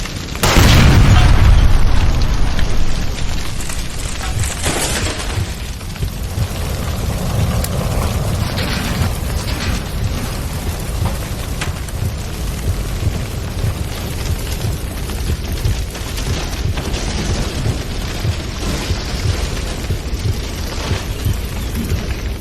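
In the L.A. Noire video game, a gas line explodes with a heavy, loud boom, then a sustained roaring rumble of fire and debris continues for many seconds.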